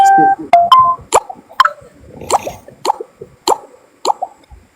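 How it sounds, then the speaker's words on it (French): A mobile phone sounds a string of short electronic beeps and tones in an irregular rhythm, fairly close and clear, with brief talk around it. "C'est mon téléphone, excuse-moi, pardon."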